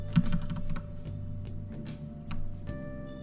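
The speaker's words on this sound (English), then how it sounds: "My keyboard is loud enough and my microphone is sensitive enough that when I'm using this it picks it up really badly" Rapid clicking of a computer keyboard being typed on, picked up close by a sensitive microphone while playing Pokémon SoulSilver; bursts of keystrokes with short pauses over a low game music hum, no talking.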